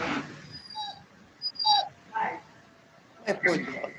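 During a Zoom meeting, a dog whimpers in a few thin, high cries mixed in with quiet voices, sounding faint and a little distant.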